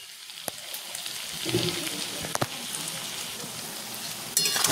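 Small-fish chorchori curry simmers in a pan on a gas stove, giving a soft, steady sizzle with a few sharp utensil clinks and taps.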